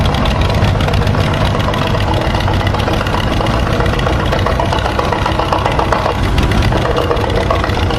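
A 1947 John Deere Model N tractor engine idles steadily at an outdoor expo, a loud continuous low rumble that runs unbroken throughout with no talking over it.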